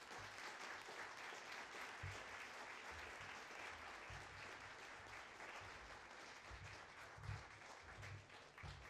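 An audience at a Parti Québécois leader's conference applauds Jean-François Lisée with steady, sustained clapping that sounds faint and roomy, with a few louder individual claps rising out of the crowd.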